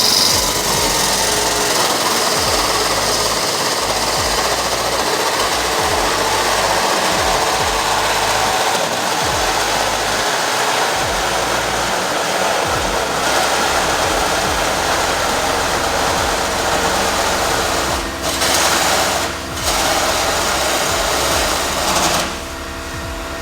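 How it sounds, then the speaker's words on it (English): A 4-inch hole saw on a drill cuts through the sheet-metal body of a third-generation Toyota Tacoma for a snorkel install, a steady, loud, continuous grinding whir that carries on with brief dips near the end, with no talking over it. "we got our 4-inch hole saw here with our 1/8-inch pallet drill into the 1/8-inch pallet hole that we drilled."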